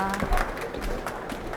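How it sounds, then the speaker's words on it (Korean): Steady applause from a seated audience at a medical device exhibition lecture in Korea welcomes a speaker to the stage, a soft, even wash of clapping with no talk over it. "신민경 컨설턴트님을 큰 박수로 환영 부탁드립니다"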